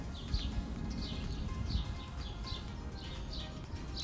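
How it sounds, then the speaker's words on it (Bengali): Small birds chirp in the evening around a village home with a vegetable plot in Bangladesh, giving faint, distant, quick chirps repeated at a steady rhythm over a low background hum. "আর পাখির ডাক শুনতে পাচ্ছেন কিচিমিচি করছে পাখির ডাক সন্ধ্যাবেলা কিন্তু"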